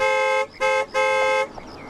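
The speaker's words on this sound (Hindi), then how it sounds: "अरे हॉर्न मारो ना भाई" A car horn sounds three times in quick succession, two longer blasts bracketing a short one, loud and close, then a quiet street tail.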